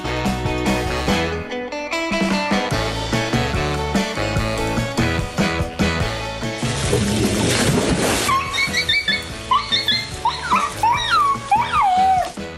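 A puppy whimpers and yips in high, wavering cries near the end, following a stretch of loud music with water sounds, close and clear.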